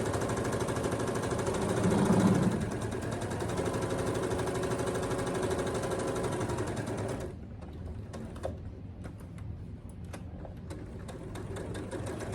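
A Handi Quilter longarm quilting machine stitches a short back tack on a tote bag, a loud, fast, steady mechanical whir that cuts off partway through and leaves softer clicking and motor noise.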